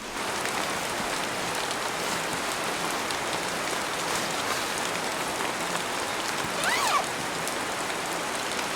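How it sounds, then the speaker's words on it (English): Rain comes down steadily on a backpacking trip, a dense, even hiss of drops hitting nearby surfaces, with a brief rustle partway through and no talking. "it's starting to come down pretty good now"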